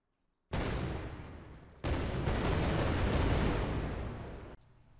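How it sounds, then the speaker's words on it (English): Two gunshot sound effects from the Unreal Engine asset library play back to back. Each is a sharp, booming blast with a long, rumbling tail, and the second follows about a second after the first. "we have this gunshot sound here"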